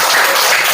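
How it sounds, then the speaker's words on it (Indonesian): A classroom of students applauds a group of classmates in a short, dense burst of clapping that fills the whole moment with no voices over it. "Tepuk tangan dulu untuk kelompok 1."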